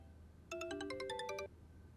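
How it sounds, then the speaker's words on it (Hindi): An incoming call sets off a phone ringtone, a short electronic melody of bright, quick notes lasting about a second, sounding clearly against a quiet room background. "शबाना के ससुराल से फोन आ रहा है।"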